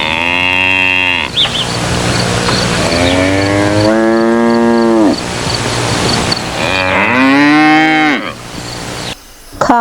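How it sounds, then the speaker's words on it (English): Several cows moo in long, drawn-out calls while grazing together in a field, loud and close, with brief pauses between the lowing. "Cows are happily grazing together in a field."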